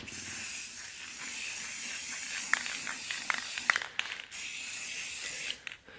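Clear coat sprays from an aerosol can in a continuous bright hiss, with a few short breaks and clicks from the nozzle, ending in a sudden cutoff.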